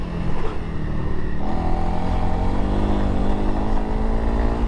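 Engine of a 2021 Honda CRF300L dual sport motorcycle on Dunlop 605 tires, loud and steady with harmonic drone shifting in pitch as the rear slides sideways on dirt, continuous close-up throughout.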